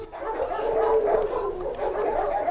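A dog whimpers close by in a steady stretch of high, whiny, wavering cries that rise and fall without a break, with no talking heard.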